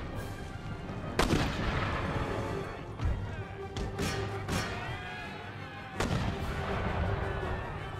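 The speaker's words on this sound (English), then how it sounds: "these guys are firing shrapnel shot" Field artillery in the Empire: Total War game fires shrapnel shot, heavy booming cannon reports at irregular intervals over a rumbling battlefield din, with crackling musket fire behind.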